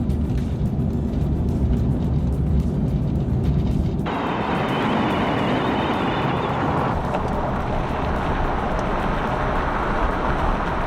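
A Hyundai Santa Cruz pickup rolls along on empty fuel, its loud, rough engine drone and road rumble filling the whole span, the tone shifting abruptly partway through as the motor struggles and sputters.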